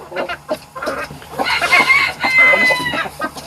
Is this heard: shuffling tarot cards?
no